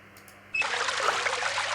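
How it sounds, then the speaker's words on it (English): Tap water runs in a Titanic video game aboard the RMS Titanic at night, starting abruptly as a steady, hissing trickle and continuing alone and close at an even level. "We have running water."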